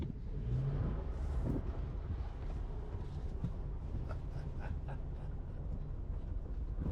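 A car accelerating hard with only the rear wheels driven, the engine roaring continuously and loudly throughout with rising revs and broadband road noise.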